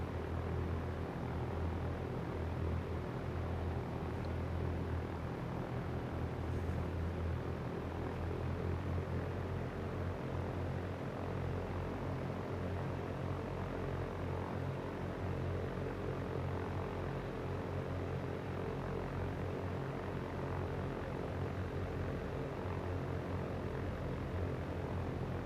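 A Cessna propeller engine in the X-Plane 11 flight simulator, a steady droning hum that stays constant throughout, with no talking.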